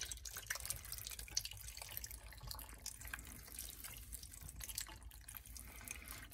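Broth from a can is poured into a cooking pot with a faint, steady watery trickle and splash that lasts several seconds and stays quiet throughout.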